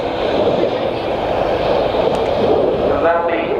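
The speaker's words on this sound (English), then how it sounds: "The aircraft now performing what the pilots call combat turns" Sukhoi Su-22 jet performing combat turns at the Royal International Air Tattoo, a loud steady roar of jet engine noise filling the air throughout, with a public-address voice talking over it.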